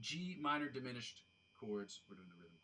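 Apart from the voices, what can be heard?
No everyday noise stands out behind the speech.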